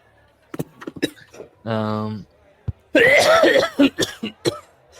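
A man coughs in a rough fit, mixed with a sustained throaty groan and loud, raspy hacking bursts close to the listener.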